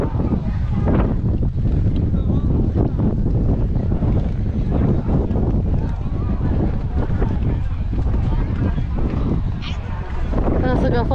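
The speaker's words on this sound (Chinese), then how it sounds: "这是个风口，风很大。" Strong wind buffets at an exposed windy spot on a winter road trip around Qingdao, a loud continuous roar of gusts against the microphone, with people talking under it.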